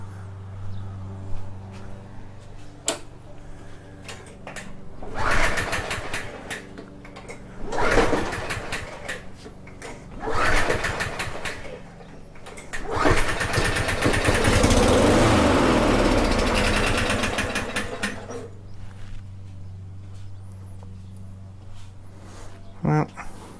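A Yard Machine lawn mower engine with a suspected carburetor problem is pulled over repeatedly, giving several bursts of sputtering engine noise separated by pauses, the longest attempt running several seconds before dying away.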